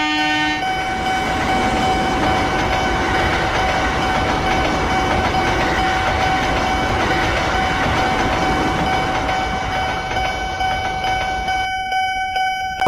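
A train rolls loud and steady past a railway level crossing with barrier gates, its horn sounding as sustained tones over the rumbling wheels and rail noise, which cut off abruptly near the end.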